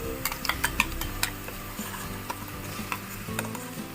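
Soft sizzling of coarsely ground onion paste frying in a pan with several sharp clinks of a spoon stirring against metal, close and quiet, no talking.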